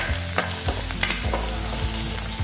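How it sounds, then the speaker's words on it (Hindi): Green chillies and carrots hit a hot pan for a light fry, giving a close, crackling sizzle broken by repeated stirring clatters and scrapes. "सारे सब्जियों को हल्का भूनेंगे। तो पहले डालेंगे हरी मिर्च, गाजर,"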